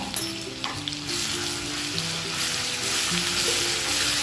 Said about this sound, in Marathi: यामध्ये हिरवी मिरची कोथिंबीर लसूण याची पेस्ट घालायची मग ते व्यवस्थित त्याच्यातील कच्चापणा निघून जाऊपर्यंत त्याला भाजून घ्यायचं